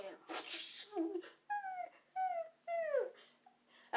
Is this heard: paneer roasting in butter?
no